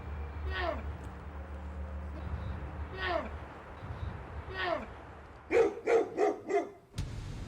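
Dogs out in the woods near a bear and cub give several spaced barks at middle distance over low rumbling background noise, ending with a quick burst of four closer, sharper barks.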